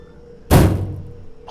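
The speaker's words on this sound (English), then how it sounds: "palms on the hood of a car." In a zombie-outbreak video game, palms smash once on a car's metal hood, a single heavy, dull thud with a short ringing tail that rises abruptly out of a quiet background.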